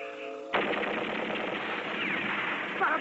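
In an Italian animated film, a machine gun opens fire abruptly after a brief tone and keeps up a sustained, dense rattle of rapid shots, loud and close, with no voices.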